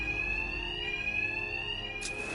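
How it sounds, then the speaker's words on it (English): A fire alarm rings in Batman: Arkham Knight: one loud, steady electronic tone that holds without a break. A brief burst of higher noise cuts in near the end. "My attacks will be covered by the noise of the alarm."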